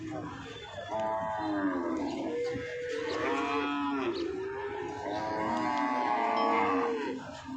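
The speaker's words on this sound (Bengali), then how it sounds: "দর্শক চমৎকার একটা উন্নত জাতের দুধের গাভি দেখতেছি আমরা" A Holstein Friesian dairy cow at a cattle market gives several drawn-out moos in succession, moderately distant, with market background noise.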